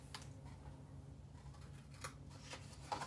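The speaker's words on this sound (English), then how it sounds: "on our box, we're gonna cut up to that score line" A cardboard box being cut up to a score line, a quiet series of close, short snipping and rasping cuts with no talk.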